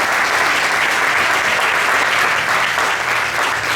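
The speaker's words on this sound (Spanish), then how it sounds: "Puedes darle un aplauso al Señor." Church congregation clapping during a fourth-anniversary service, a dense, even burst of applause filling the whole stretch at close range with little else heard.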